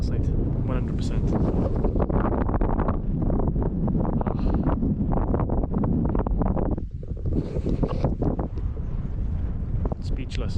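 Strong wind buffets the microphone on a foggy, rainy mountain at Sugar Loaf, a loud continuous roar with gusting surges, while a person talks through it.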